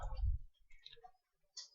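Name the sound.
mouse click outside the Excel checkbox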